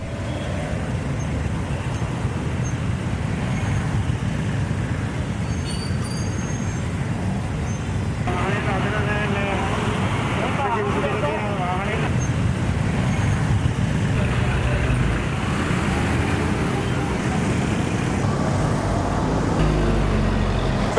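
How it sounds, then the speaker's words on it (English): Dense road traffic in Colombo with entry points jammed by a heavy influx of vehicles, a steady broadband roar of cars, trucks and buses continuing throughout, with faint indistinct voices mixed in. "Colombo witnessed a high influx of vehicles today as well, with its entry points even jammed."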